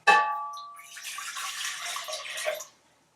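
Water pouring from a tap into a big saucepan for marmalade, a clang at the start, then a steady splashing gush for about two seconds that stops abruptly.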